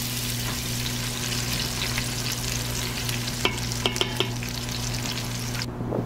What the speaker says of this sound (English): We're going to allow this to saute until it turns light brown in color.